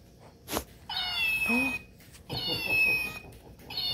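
A cat toy lets out a few electronic-sounding meows, each a drawn-out whine with short pauses between.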